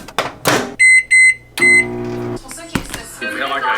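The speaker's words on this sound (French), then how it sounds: "je vais le mettre dans le faux micro-ondes" A microwave oven runs with a low steady hum and gives several loud, clear electronic beeps in a row, with people talking over and around it.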